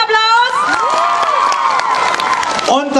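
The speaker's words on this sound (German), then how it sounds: "Großen Applaus." A live audience at a stage show in Leipzig breaks into loud cheering and applause, with high whoops and shouts soaring over dense clapping for about three seconds.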